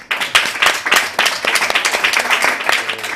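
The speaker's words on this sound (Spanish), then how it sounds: "Un aplauso por la conciliación familiar." An audience at a poetry book presentation in Valencia claps together, a brisk, fairly close burst of applause that keeps a steady patter across the few seconds with a faint voice beneath.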